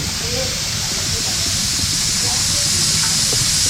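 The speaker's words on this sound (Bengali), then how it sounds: "তেল দিচ্ছি গোস্ত রান্না করার জন্য" Oil sizzles in a pan over a clay stove in a steady, bright hiss, with faint crackles beneath and no clear talk.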